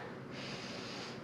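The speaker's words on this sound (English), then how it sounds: "Big breath in." A deep inhale during a no-equipment thigh workout, heard as one steady, close breath drawing in that grows stronger partway through and holds to the end.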